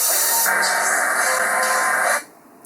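Water from an unmuted splash clip gives a loud, steady, hissing rush for about two seconds, then cuts off abruptly to near quiet.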